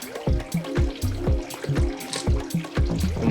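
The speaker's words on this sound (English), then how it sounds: "simply turn this ball valve up here and you can start filling up your tank through this central plumbing line" Water runs through a central plumbing line and ball valve into the tank of a hybrid plant holding system, a steady, fairly loud gush and trickle with rhythmic pulsing throughout.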